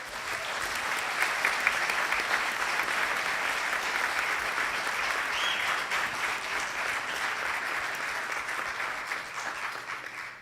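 A council meeting audience applauds the Mayor Pro Tem and City Council in Montebello, a sustained, even round of clapping from a full room lasting about ten seconds.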